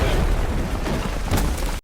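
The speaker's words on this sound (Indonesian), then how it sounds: "meriam pasukan kekaisaran mulai menyalak" Imperial army cannons fire in a war film, a dense, sustained rumble of booming blasts with heavy low-end energy lasting nearly two seconds before cutting off abruptly.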